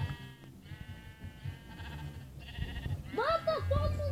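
A sheep in a video game bleats in a couple of wavering cries near the end, over game background sounds and a voice talking.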